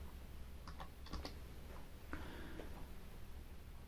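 Keys tapped on a computer keyboard while entering a date formula in a spreadsheet: a few quiet, scattered clicks in short bursts with pauses, close and faint, no talking.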